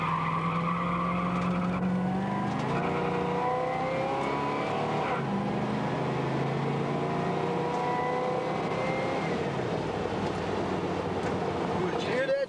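A 1973 Trans Am accelerating on a short run, engine revving and climbing through gears with rising and falling tones, loud and near, with voices faintly audible under the engine.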